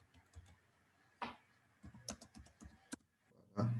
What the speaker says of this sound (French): Voilà, j'ai entré mon nom d'utilisateur.